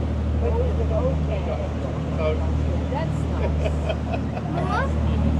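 A boat motor's steady low drone runs throughout off Puerto Mogan, Gran Canaria, with water noise and faint voices and calls over the top.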